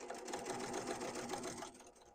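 A sewing machine stitches steadily through the quilted layers of a market shopper tote, a close, even mechanical whir that runs continuously and eases slightly near the end.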